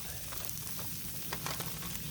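Beef fried rice sizzles on a Blackstone griddle in a dense, steady crackle, close and loud, with a few faint scrapes or stirs and no speech.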